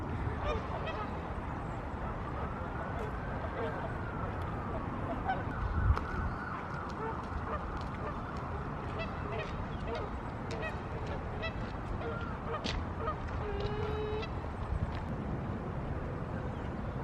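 Geese honk and call at a sheltered pond, scattered honks near and far over a steady outdoor hum, with no wind noise.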